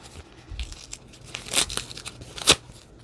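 Paper of a mail envelope being cut open with scissors, a few sharp snips and tearing crinkles at close range, quiet between the cuts.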